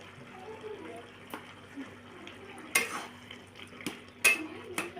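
A spoon stirs a vegetable curry of greens in a pot, giving sharp metallic clinks and scrapes at irregular intervals over a faint low simmer, with some soft voice in the background.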